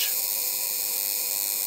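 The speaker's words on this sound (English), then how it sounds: "And what you are hearing is the interrupter of the Tesla generator, which is built into the central case here" The interrupter of the Tesla generator built into a vintage 1931 Violet Wand gives a steady, high-pitched buzzing hiss that holds constant and close throughout.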